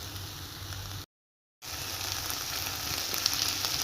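Ground meat frying dry in a pan with no fat or oil left, giving a steady, close hiss and crackle that cuts out for a brief silent gap and then resumes.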